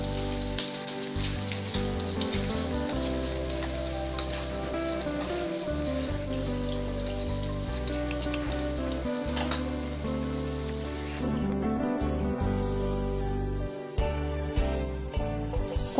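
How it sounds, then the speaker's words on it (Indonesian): Salted fish sizzles and crackles continuously in a pan of oil, a steady dense frying hiss close by with no talking. "goreng ikan asin sampai nyo matang, sampai berwarna kecoklatan juga"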